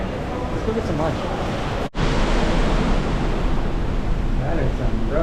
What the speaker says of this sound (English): That is some rough ocean.